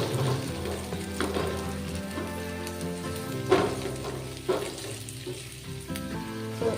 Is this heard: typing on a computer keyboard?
no